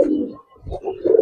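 Giribaz pigeons coo on a pigeon farm, giving two close, loud throaty coos separated by a short pause, with no voices.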